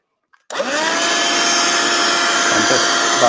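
A vacuum cleaner used to suck excess fake snow off a model railway switches on after a brief click and whines loudly and steadily at close range, with no talk.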